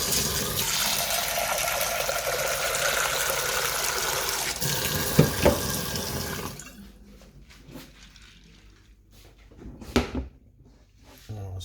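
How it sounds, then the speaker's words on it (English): Water pours steadily into a cooking pot in a home kitchen, a loud continuous rushing splash for several seconds that stops abruptly, followed by quieter clinks and knocks of handling. "let's put some water in here."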